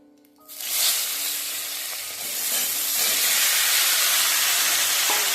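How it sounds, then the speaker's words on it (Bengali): Steady, loud sizzling of pumpkin and potato frying in a pan, rising after a quiet start and continuing evenly throughout with occasional stirring. "এবার আমি নেড়ে চেড়ে ভালো করে ভাজিয়ে নেবো"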